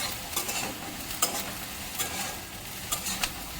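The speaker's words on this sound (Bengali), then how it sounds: "কড়াইয়ে একটু সাদা তেল আর হালকা পরিমাণে বাটার দিয়ে সব রকম ভেজিসগুলো একটু ভাজা ভাজা করে নিয়েছি" Chopped onion, carrot, beans and capsicum frying in a pan of white oil and butter, with a soft steady sizzle and a few sharp scrapes of stirring; no talk.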